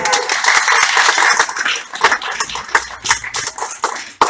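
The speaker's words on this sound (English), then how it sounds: "Round of applause again for Martin." Applause from a small audience at a university show press launch, a short burst of scattered clapping that thins out into a few separate claps and shuffling.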